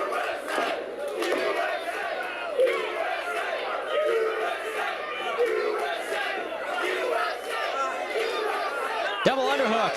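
Crowd at a St. Louis professional wrestling show murmurs, shouts and cheers continuously at moderate distance, with a sharp burst near the end; a commentator talks over it.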